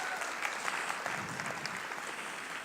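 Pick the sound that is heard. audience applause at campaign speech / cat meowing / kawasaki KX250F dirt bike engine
audience applause at campaign speech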